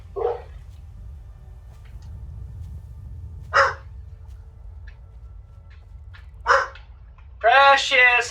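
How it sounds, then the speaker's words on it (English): A pet dog named Precious lets out a few short, sharp barks spaced a few seconds apart, with a longer burst at the end, heard indoors over a low steady hum. "My dog's barking."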